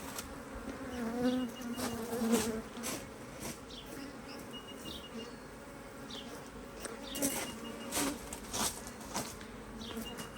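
Bees buzz steadily inside an Australian-designed HiveIQ beehive holding a small teacup swarm, a dense continuous hum with individual insects droning closer and farther, with no talking.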